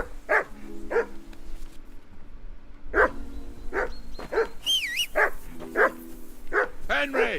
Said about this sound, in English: Henry, whistle at that mutt of yours to stop barking.